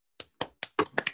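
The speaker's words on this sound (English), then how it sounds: "Zoom applause" Scattered claps from a few Zoom call participants, six sharp separate hits in just over a second, thin and close, with no voices.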